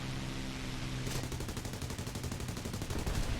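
Aircraft guns on a Mosquito Mk 6 in the combat flight game War Thunder fire as a dense, loud, continuous rattle that starts about a second in and keeps going to the end.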